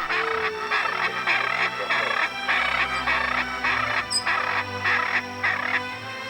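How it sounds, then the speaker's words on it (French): A bluebird sings in the Amazon rainforest on a mild evening, repeated bursts of bright, rhythmic calls over a low background hum, close and fairly loud. "L'oiseau bleu, sans le savoir, entonne son propre chant funèbre dans la douceur d'un soir ordinaire."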